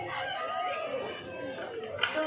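A rooster crows once in a long, drawn-out call during a school drama competition performance, set against busy background noise and murmur.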